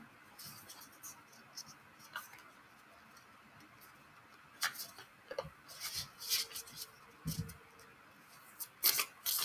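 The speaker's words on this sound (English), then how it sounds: "While I thoroughly shuffle." Soft riffling and tapping of tarot cards being shuffled up close, quiet at first, then brisker bursts of flicks and snaps toward the end.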